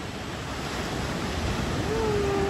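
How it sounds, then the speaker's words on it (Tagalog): Heavy surf roars steadily and loudly at a beach in Dingalan, Aurora, a continuous wash of strong breaking waves with wind rumbling across the microphone. "Ang lakas ng alon."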